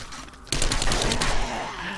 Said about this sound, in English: Fire off the last of these blunderbuss rounds